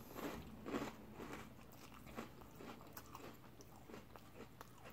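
Froot Loops Wonka cereal crunched while eating, a run of close, irregular bites and chewing crackles, alone without talk.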